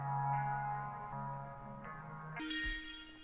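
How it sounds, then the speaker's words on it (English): A synth choir sings a few sustained notes moving up and down, soft and reverberant, then jumps to a higher, brighter chord near the end, with no speech over it. "It's just a choir, and it's just hitting a few notes."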